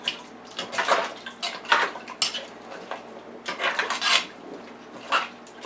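A utensil scrapes and mixes ingredients in a pot of ham bone and black-eyed peas, giving repeated wet stirring swishes and light clinks at close range, with no voices.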